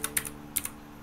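Computer keyboard keys click in a few quick, sharp taps, close and crisp, with short gaps between strokes and no voices.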